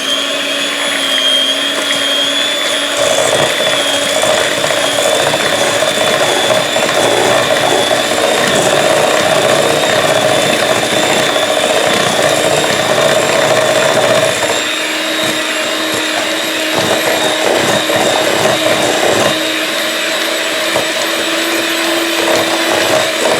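An electric mixer whirs loudly and steadily as it beats zucchini bread batter of sugar, eggs, oil and vanilla. The motor's pitch shifts slightly partway through, and no one speaks.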